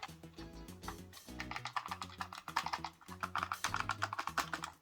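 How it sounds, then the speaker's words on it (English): Gamesir X2 game controller buttons pressed in quick irregular bursts, sharp bright clicks overlapping closely, near and fairly loud with no voices. "the buttons on these are very clicky"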